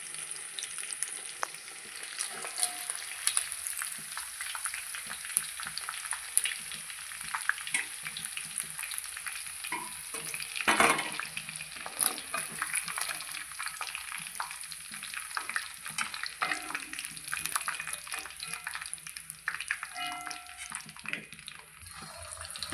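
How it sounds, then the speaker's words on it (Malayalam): Chicken fries in oil for restaurant-style chicken biryani, a continuous sizzle with scattered pops, stirring clatter and one sharper clank midway, heard close and with no speech. "ബാക്കിയുള്ളത് ഈ എണ്ണയിൽ വറുത്തെടുക്കാം."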